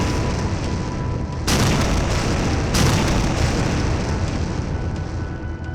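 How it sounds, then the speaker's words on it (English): A boiler tank explodes in the sandbox RPG Kenshi, with two loud, echoing booms in quick succession over a rumbling background. "The fire rum ignited the boiler tank, causing an explosion that echoed throughout the city."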